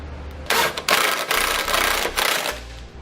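Power tool driving and tightening trailer hitch bolts on a 2013 Mini Clubman, a loud close whirring rattle in a few bursts separated by brief pauses, over a low hum.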